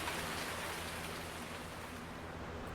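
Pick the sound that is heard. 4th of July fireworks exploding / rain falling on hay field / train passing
rain falling on hay field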